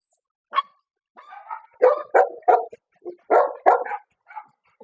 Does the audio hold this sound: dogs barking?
yes